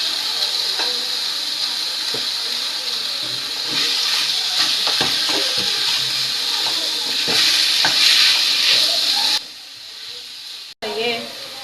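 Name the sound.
chicken mince frying with garlic and ginger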